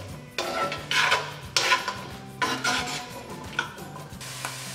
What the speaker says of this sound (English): you're gonna add in the onions. Just dump all that in there. gonna cook this for about